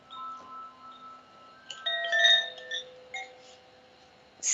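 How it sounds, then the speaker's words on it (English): An earth chime, a Koji chime, rings with several clear, bright tones struck one after another, overlapping and slowly fading, quiet and close against a silent background. "Koji chimes, earth chime."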